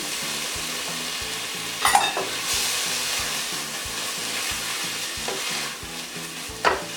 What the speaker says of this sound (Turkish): Şimdi bir adet ince doğradığım domatesimi ilave ediyorum.